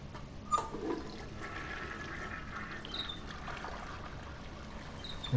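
A toilet flushes in the video game Heavy Rain: a short clunk of the handle, then rushing and trickling water refilling the bowl, fairly close and heard alone.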